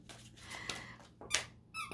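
A dog chews a squeaky toy indoors, giving several short, faint, high-pitched squeaks spaced irregularly over two seconds.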